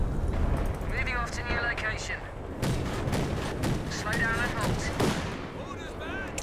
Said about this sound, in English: That's the sound of a Stuka rocket truck from the OKW.